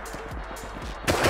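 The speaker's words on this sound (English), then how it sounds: "I'm getting shot from behind." Video-game gunfire in Rust, heard as a quick run of loud, repeated shots in a steady rhythm that ends in a harsher, louder burst.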